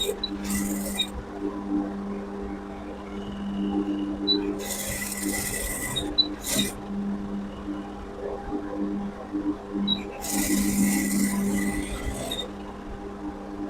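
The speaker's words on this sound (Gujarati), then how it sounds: "આવી રીતના સિલાઈ કરતું જવાનું." A sewing machine stitching piping onto a blouse runs in short bursts of rapid mechanical whirring, separated by quieter stretches with a steady low hum underneath.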